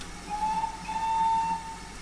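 A locomotive steam whistle, reused from another engine, gives one sustained tonal blast lasting about a second over a low, rumbling background, fairly clear and alone without talk.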